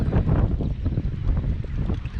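Gusty spring wind during wade fishing for speckled trout in shallow coastal water, buffeting the microphone with a steady, close rumble and uneven surges, without speech.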